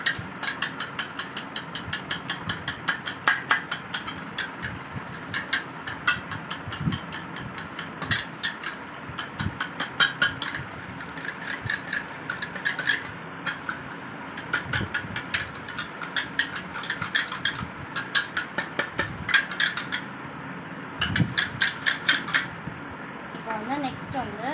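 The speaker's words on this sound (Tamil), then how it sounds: "இப்போ ஃபர்ஸ்ட் நான் 2 எக் போட்டுக்கோங்க. அதை நல்லா ஒரு 1 minute பீட் பண்ணிக்கோங்க." Two eggs are beaten for fudge brownie batter, giving a quick, rhythmic clatter of rapid clicking strokes against the bowl that continues close and steady for over twenty seconds.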